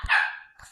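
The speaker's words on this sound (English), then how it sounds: "featuring two stray dogs because we love stray animals" Two stray dogs bark in a short burst: a loud close bark at the start, then a quieter second bark near the end, with no speech.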